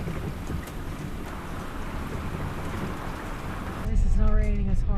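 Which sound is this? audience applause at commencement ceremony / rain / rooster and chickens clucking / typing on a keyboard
rain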